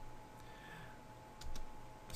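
Quiet keystrokes on a computer keyboard while searching online, a soft run of light clicks with a louder cluster of taps near the end, close by with no talking.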